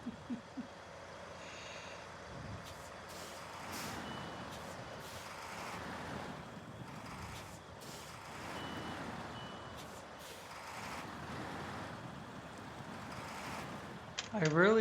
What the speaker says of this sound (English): I really have to move this truck to get that one out.